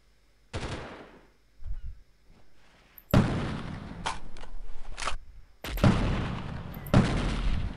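Gunfire in the Delta Force video game, with sharp shots and bursts that ring out loudly in several groups over a few seconds, alone and without talk.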